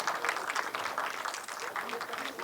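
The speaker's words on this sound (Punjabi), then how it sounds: "ਬਹੁਤ ਜ਼ੋਰਦਾਰ ਤਾਲੀਆਂ" Crowd clapping at a success party for a web series, heard as a quick, rhythmic patter of many hands, moderately loud, with voices talking over it.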